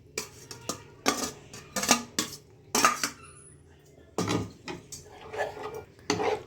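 Boiled macaroni is tipped into a pan of white sauce and stirred, giving irregular clinks and scrapes of a utensil against the pan, some sharp and some softer, in uneven bursts.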